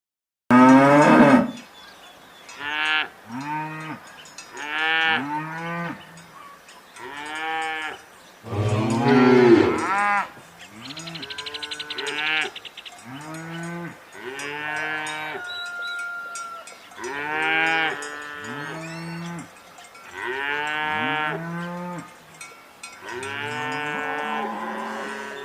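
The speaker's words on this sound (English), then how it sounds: "Cow," Cattle moo repeatedly in a long series of loud, close, drawn-out calls separated by short pauses, with no talk over them.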